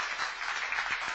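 An audience at a history talk claps in a brief, steady burst of applause.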